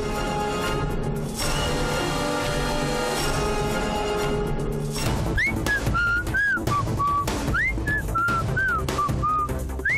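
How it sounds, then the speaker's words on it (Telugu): Loud, sliding whistles over busy music and crowd noise, coming in repeated short rising and falling phrases in the second half. "ఆ విజిల్స్ ఏంట్రా?"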